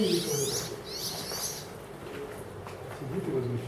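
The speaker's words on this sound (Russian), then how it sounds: "Птичка сидит и возмущается." A small bird calls in repeated, agitated chirps among carved rock rooms of the Vardzia cave city in Georgia, fairly close and clear in the first half, then fading, with a person speaking low beneath it.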